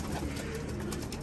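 Racing pigeons coo in a loft, giving soft, low, throaty calls that blend into a dense, close, constant murmur.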